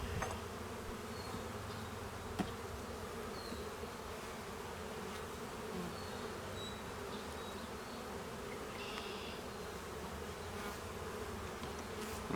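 Honey bees buzzing around a hive in early spring as they bring in pollen, a faint, continuous drone of many insects with no voices.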